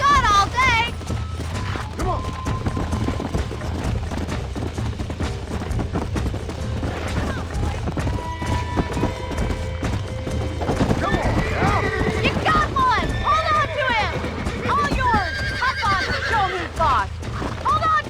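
A horse neighs repeatedly and its hooves clip-clop while being wrangled in the Red Dead Redemption video game, loud and close over constant game ambience with scattered gunfire-like bursts.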